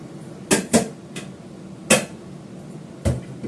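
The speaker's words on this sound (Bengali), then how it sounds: "ঢাকনাটা খুলে ফেললাম।" A metal cooking pot lid is handled on a home kitchen stove, giving several sharp, close clanks at irregular intervals with quiet gaps between.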